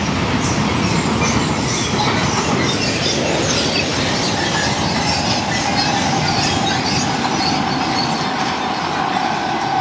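A freight train hauled by locomotive 185 276 rolls past at close range, loud and continuous for ten seconds. Wheels clatter steadily, with a metallic rushing roar and faint squeals.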